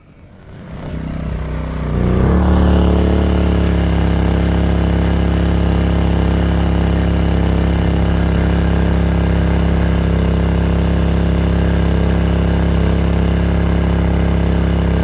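Konner&Sohnen dual fuel inverter generator powering an AC unit: a steady, loud mechanical hum settles in after about two seconds as the load kicks on, then holds an even drone to the end.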